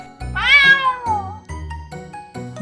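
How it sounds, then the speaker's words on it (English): A cat meows loudly and close, one long rising-falling meow followed by shorter calls, with light music underneath. "C is for cat."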